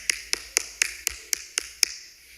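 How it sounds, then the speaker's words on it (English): Sparse clapping after a tuba concert at Hofstra's OcTubafest: about eight sharp, evenly spaced claps over two seconds, close and distinct, like one or two people rather than a full crowd, with no talking. "No, keep clapping."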